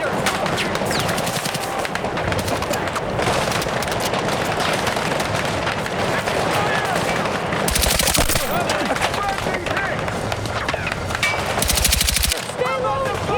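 Sustained machine gun fire in Battlefield 6 during a night raid, with rapid clattering bursts, nearby shots and distant volleys layered together, and two extra-loud close bursts standing out amid the battle.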